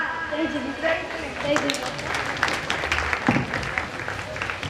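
An audience at a Jain religious ceremony breaks into scattered applause, clapping under an announcer's amplified voice for a few seconds.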